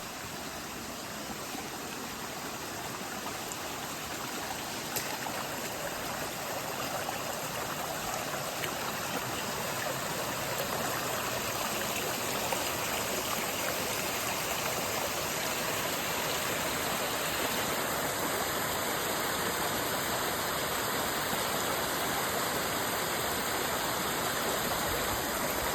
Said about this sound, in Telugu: కొంచెం సేపు ఈ పీస్ఫుల్ వాటర్ స్ట్రీమ్ని ఎంజాయ్ చేయండి.